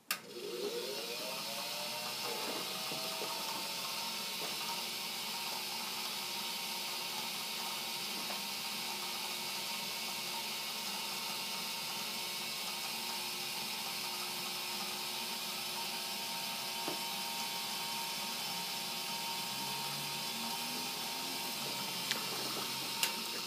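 A cylinder shaving machine runs steadily with a continuous mechanical whine and hum, its cutter shaving a cylinder after broken wires were repaired; the motor noise holds level throughout with a few faint clicks near the end.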